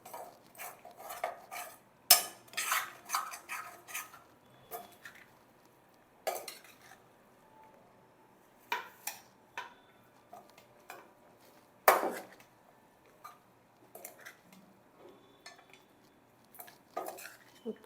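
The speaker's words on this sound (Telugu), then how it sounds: "ఇప్పుడు ఈ పోపులో రైస్ వేసుకుంటా ఇట్లా తిప్పుకుంటా బాండీలోనే" A metal spoon scrapes and clatters in a pan as cooked rice is stirred into a tempering for mango pulihora, in irregular bursts of clinks and scrapes with quiet pauses between.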